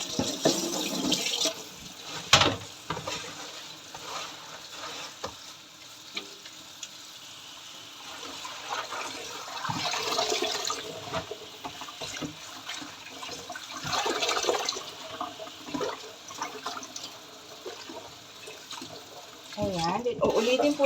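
Tap water runs and splashes while homemade ravioli dough is washed in a kitchen, a steady, uneven gushing with louder surges, and a voice talks over it at times.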